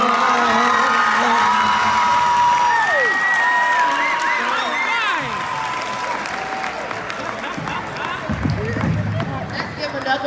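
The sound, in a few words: applause and cheering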